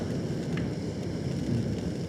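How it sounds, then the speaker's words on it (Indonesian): Light drizzle falls during a motorcycle ride toward Lumajang, a steady, soft, even hiss with no talk. "Hei, gerimis lagi."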